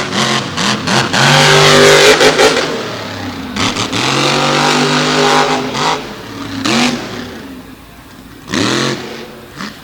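Ford-bodied truck pulling machine at an outdoor pulling event in Canfield, Ohio, its loud engine roaring and revving in repeated surges while running down the track, with fading and returning bursts.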